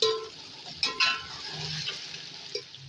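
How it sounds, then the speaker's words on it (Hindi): Chicken frying in a pan with garlic-ginger paste, being stirred: a steady broadband sizzle with a few sharper scraping clicks around the middle and near the end, close and fairly quiet with no talking. "मैं डाल रही हूँ लहसुन अदरक का पेस्ट और इसको भी हम अच्छे से फेरेंगे।"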